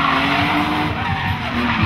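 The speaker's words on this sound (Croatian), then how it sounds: "Najatraktivniji dio definitivno Drift Challenge-a." A race car drifts at a Drift Challenge event in Osijek, its tires squealing loudly and continuously over a roaring engine, close and steady throughout.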